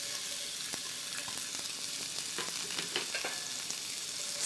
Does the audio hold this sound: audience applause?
no